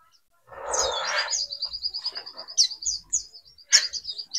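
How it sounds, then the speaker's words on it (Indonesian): A male white-eye (pleci) chirps in a bright, rapid series of high trills and tweets, close and clear, with a short burst at the start and repeated sharp calls throughout. "tanda-tanda burung pleci yang mau nguntul"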